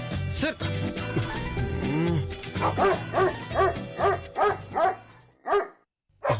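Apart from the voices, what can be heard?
dogs barking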